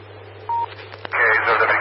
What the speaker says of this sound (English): I got Mark on the phone